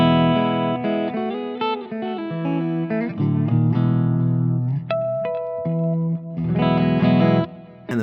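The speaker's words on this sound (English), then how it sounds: "Put it down to the middle pickup" A Fibenare Basic Jazz bass played through its middle pickup gives a clean, sustained run of melodic notes and chords, loud and up close, with short pauses between phrases and no talking.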